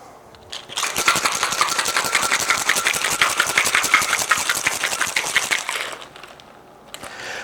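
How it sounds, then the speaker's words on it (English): A cocktail of lemon juice and other ingredients shaken hard in a single-walled metal shaker, with a loud, fast, steady rattle of ice for about five seconds, then stopping. "3/4 of an ounce of lemon juice. And we're going to shake it up."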